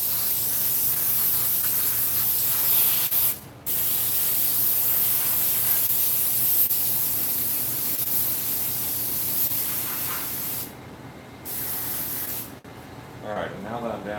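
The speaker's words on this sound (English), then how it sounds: "Here, I'm spraying the fabric." A spray gun applies coating onto the fabric of a fur mask with a loud, continuous hiss in long bursts, pausing briefly twice, with someone talking over it.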